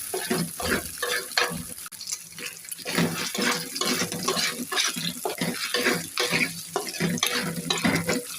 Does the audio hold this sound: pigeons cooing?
no